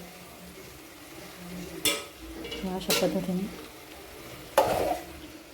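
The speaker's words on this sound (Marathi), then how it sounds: "या शेंगा पूर्ण याच्यात टाकून घ्यायच्या फोडणीमध्ये" Drumstick pods sizzle in hot oil tempering while being stirred, with a few sharp scraping clatters of a utensil against the pan; a voice speaks briefly.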